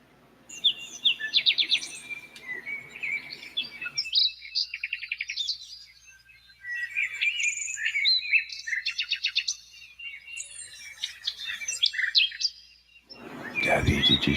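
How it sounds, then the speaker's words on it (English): Songbirds chirp and trill outdoors on an overcast day, several bright call bursts repeating in clusters at moderate distance, with a brief loud rustle near the end and a voice murmuring under the opening calls. "Oh, we got a bird."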